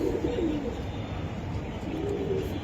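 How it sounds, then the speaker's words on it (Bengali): Chocolate racer pigeons cooing close by, low throaty coos rising and falling over a steady background murmur, with no talking. "এই যে এই এটা আর এই যে কবুতর"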